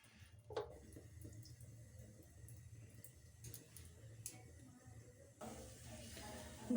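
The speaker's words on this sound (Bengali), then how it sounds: "জলটা, বাঁধাকপির জলটা ফেলে দেব" Water drains off steamed cabbage in a kitchen, a soft trickling splash that stays faint, then grows into a steadier, louder pour near the end.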